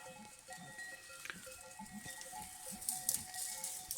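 Goats in a farm setting give short bleats and nasal calls during courtship play, scattered over a soft background patter and ambient rustle, with no talking.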